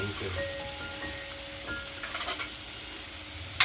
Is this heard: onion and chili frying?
yes